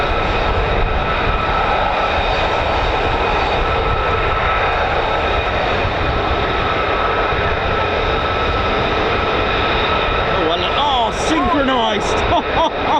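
An F-35A fighter jet's engine roars loud and steady at RAF Lakenheath, a dense continuous blast with whining tones, a voice talking under it.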